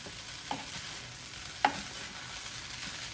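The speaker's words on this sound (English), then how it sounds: "I'm gonna mix it up a couple more times, but this right here is your turkey fried rice" Turkey fried rice gets stirred in a Power XL cooker, a faint soft scraping and sizzle running steadily underneath, with two brief louder clicks of the utensil against the pot.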